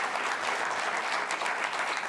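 An audience applauds, a dense, even wash of clapping that holds steady throughout.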